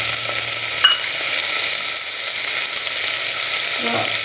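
Tomatoes sizzle in a hot frying pan for a Nepali potato, radish and soybean curry, a loud continuous frying hiss with scraping stirs of a spoon throughout.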